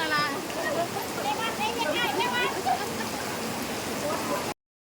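Steady rain pours down in a dense hiss at an outdoor Buddhist alms-giving gathering, with people talking and calling out over it before it cuts off abruptly.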